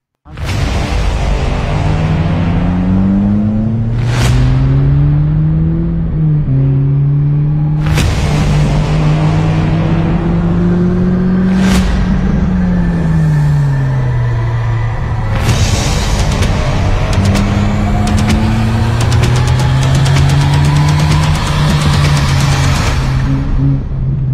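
A Renault Sandero RS sports car engine revs loud and close, climbing and dropping through repeated gear shifts with sharp bursts between pulls, running steadily for the whole stretch with no voices.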